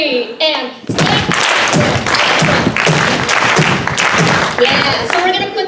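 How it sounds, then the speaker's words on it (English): A group stamps feet and claps hands in a steady, repeating rhythm during a Rhythms of Resistance workshop with La Mezcla at CSU Monterey Bay, Seaside, California; dense, loud thumps and claps run continuously after a brief opening. "We're gonna go stamp, clap, stamp, clap, stamp, stamp, clap, stamp, clap, stamp."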